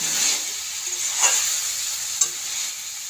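Chopped tomatoes fry in a pan with a continuous close sizzle, broken by a few scraping stirs and a sharp clink of the utensil, with no talk.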